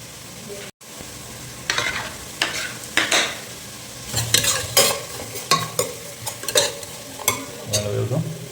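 Green chilies and ginger garlic paste sizzle in hot oil while being stirred, with repeated scraping stirs and bursts of frying crackle in an irregular rhythm, close and moderately loud.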